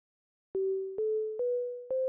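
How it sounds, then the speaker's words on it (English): The resonating filter of a Moog Mother 32 synthesizer produces a pure sine tone in four short, clean notes, each stepping slightly higher in pitch and fading a little before the next, close and alone. "We're hearing a sine wave that is being generated by the filter."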